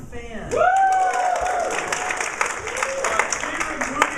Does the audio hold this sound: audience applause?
yes